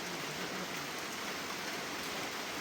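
Heavy rain pours steadily, a dense, even hiss of drops with no breaks, and nobody speaks.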